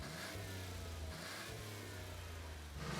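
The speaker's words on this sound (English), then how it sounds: "As he smokes up the back wheels" A car doing a burnout on a street in Christchurch, its engine revving hard and holding high while the rear wheels spin, loud and continuous with a brief dip partway through.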